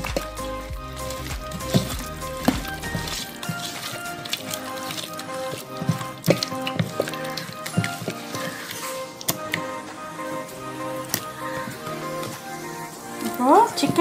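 Chicken is worked by hand into a mustard oil marinade for Chicken 65. Close, wet squelching and soft slapping sounds come in an irregular rhythm, with sporadic faint clicks.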